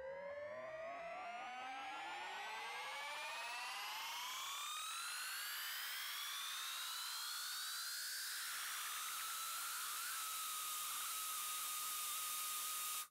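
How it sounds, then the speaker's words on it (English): Synth wind-up built in Massive, with several oscillators sweeping upward in pitch under a rising scream filter and a hiss of white noise, building to a bright screaming peak that holds steady near the end. "So the cutoff on scream filter's coming up, causing the scream. Also the pitch is rising on all of the oscillators"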